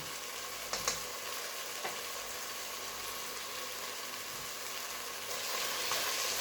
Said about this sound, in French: Je mélange à nouveau et je laisse 2-3 minutes avant de mettre le bouillon.